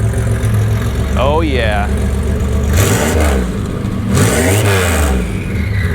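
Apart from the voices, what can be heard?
car engine idling and revving, open exhaust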